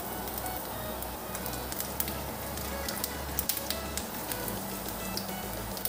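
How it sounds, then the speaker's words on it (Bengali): Black cumin (nigella) seeds sizzle in hot oil left over from frying tilapia for a spicy fish curry. The sizzle is a steady, dense crackle with sharper pops scattered through it, close and continuous, with no talking. "এই তেলেই ফোড়ন দিয়ে দেব কালো জিরা"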